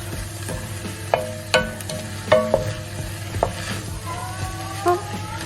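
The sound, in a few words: stirring chilli con carne in a pan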